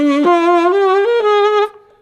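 A saxophone holds a few sustained notes, its pitch wobbling from an uncontrolled throat vibrato, loud and close, stepping up in pitch before cutting off abruptly, with no talking.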